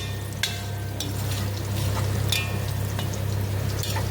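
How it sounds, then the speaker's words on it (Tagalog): Hotdogs frying in a pan for Filipino-style spaghetti give a steady, close sizzle with a low hum beneath and a few faint clicks of stirring. "Piniprito natin itong hotdog"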